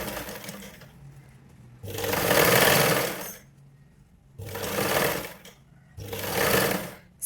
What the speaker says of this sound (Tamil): இப்போ இந்த ஸ்லீவை நம்ம ஸ்டிச் பண்ணலாம்.